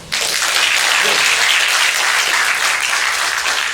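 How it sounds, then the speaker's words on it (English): Loud, sustained applause from a cross-country team banquet audience starts abruptly and holds as a dense, even roar of many hands clapping close by. "So you can clap it up for him."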